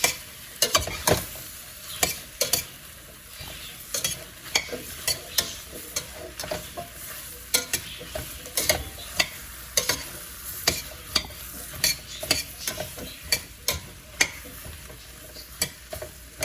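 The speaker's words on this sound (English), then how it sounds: "I want the potatoes to be coated and cook a little bit with that coating." Potatoes fry in a pan while being stirred, the spoon scraping and clacking in an irregular series of sharp clicks over a faint continuous sizzle, close and without speech.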